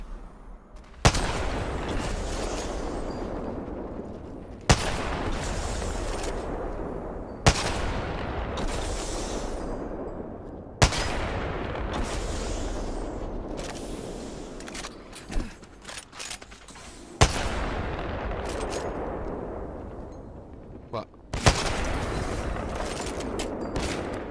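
Heavy sniper rifle shots ring out in a first-person shooter game, a Kraber fired no-scope during a sniper-only match, with sharp loud cracks spaced a few seconds apart, each trailing into a long rumbling decay over steady background noise.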